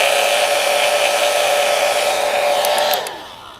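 A heat gun or hair dryer blows hot air onto a vinyl decal with a loud, steady whine and rushing airflow, then winds down quickly near the end; no talking.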